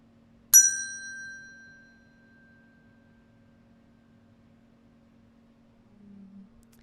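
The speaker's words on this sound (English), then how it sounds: "Now I'm going to ring the mindfulness bell" A single bright mindfulness bell strike rings out clearly, its pure tone slowly fading over a couple of seconds into near silence, with a low steady hum underneath.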